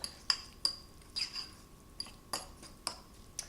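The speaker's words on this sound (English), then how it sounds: "Continue to mash it with your fork." A metal fork scrapes and clinks against a bowl while mashing chickpeas for hummus, sharp irregular taps about every half second, close and quiet with no talk.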